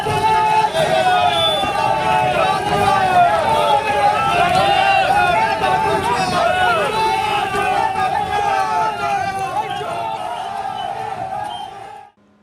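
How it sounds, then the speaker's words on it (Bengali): A dense crowd of political protesters chants slogans outside a court in Panchla, Howrah, as an arrested panchayat chief is brought in. The many overlapping voices stay loud and continuous for about twelve seconds before cutting off abruptly. "কোর্টে তোলার সময় চোর স্লোগান"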